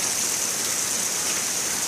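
Steady rain falls on a porch in an even, unbroken hiss, dense and moderately loud with no pauses or voices.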